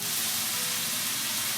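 Kimchi fried rice sizzles in hot olive oil in a pan, giving a steady, close, bright hiss with soft crackle and no talk over it.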